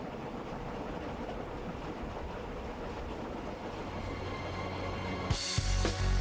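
A deluxe passenger train travelling north from Bulawayo rumbles steadily with a continuous rolling noise, and a few sharper clanks and a louder burst come near the end.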